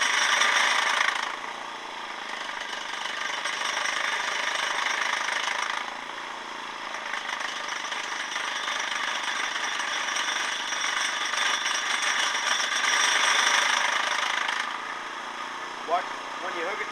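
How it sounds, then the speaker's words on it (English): A small motor drives a mini generator through an engaged clutch, giving a loud, continuous rattling chatter that swells and dips in level over several seconds. "As soon as you engage the clutch, it's really chattery."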